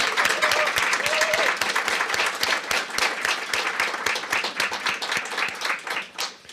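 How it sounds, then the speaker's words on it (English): Audience at a California State Assembly candidate forum applauding, dense steady clapping from a room full of people, sustained for several seconds before tapering off. "how about a round of applause for these great candidates?"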